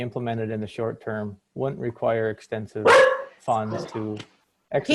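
During an online board meeting, a dog barks once, sharp and close, in the middle of steady speech, cutting briefly through the talking.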